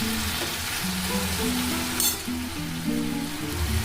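Close, steady sizzling of food frying in a pan, with a soft hiss throughout and a brief sharper crackle midway.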